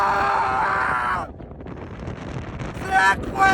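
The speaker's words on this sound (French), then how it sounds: "Le vent, il est trop puissant." Strong wind buffets the microphone in an open, high outdoor spot, a loud roar at first that cuts off abruptly, then lighter gusts return with brief voices under it.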